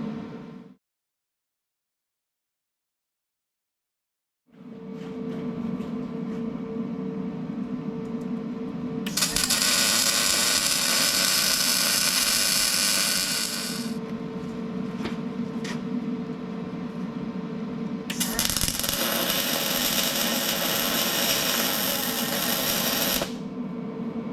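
Welding on a bracket for a Packard 356 engine block, a steady crackling arc running in two long loud bursts separated by a quieter stretch, with a brief silence near the start and workshop hum underneath.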